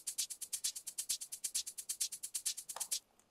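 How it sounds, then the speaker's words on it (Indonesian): A shaker sample plays a fast, steady run of crisp rattling strokes for about three seconds, close and even, ending abruptly. "Shaker bunyinya kayak gini."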